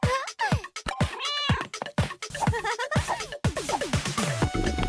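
A cartoon cat in a children's video game meows repeatedly over a busy, cluttered game soundtrack full of sliding tones and effects.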